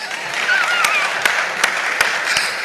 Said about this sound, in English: a round of applause for our tech guru